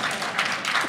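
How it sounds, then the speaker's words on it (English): An audience clapping steadily in a room, a dense patter of many hands at moderate loudness throughout. "make them keep clapping"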